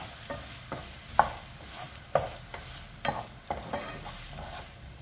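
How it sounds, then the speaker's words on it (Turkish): Diced medium onion fries in hot oil in a pan, a soft continuous sizzle broken by about eight regular scraping stirs of a utensil. "Yağımız ısındıktan sonra bir orta boy doğradığım, küp küp doğradığım soğanımızı tavamıza bırakıyorum."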